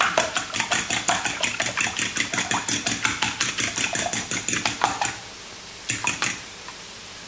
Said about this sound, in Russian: Вилкой вот так мы все размешали.